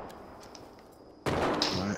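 Gunfire in an online battle royale shooter, a sudden loud burst of shots cutting in after a quieter stretch of game ambience and continuing dense and close to the end.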